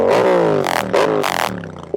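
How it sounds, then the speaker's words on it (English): A Yamaha XSR700 motorcycle engine revs hard in short bursts, three sharp throttle blips rising and falling, loud and close, on a cold-weather ride. "I know you guys like that rev"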